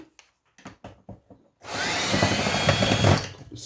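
A few short clicks and taps, then a loud continuous whirring buzz as a power screwdriver backs Phillips screws out of a PS2 console being scrapped, close and alone.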